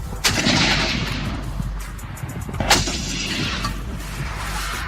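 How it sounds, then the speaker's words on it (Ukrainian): Two loud gunshots from an old Soviet infantry gun ring out a couple of seconds apart, each followed by a rumbling echo over a low background hum. "Постріл."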